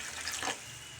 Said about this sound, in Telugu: ఇప్పుడు ఇందులోకి ఒక 1/2 గ్లాస్ నీళ్ళు వేసుకుంటున్నాను